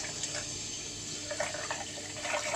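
Tap water runs steadily into a sink while a face is rinsed after a homemade kitchen-ingredient face mask, a continuous close splashing wash with small irregular drips.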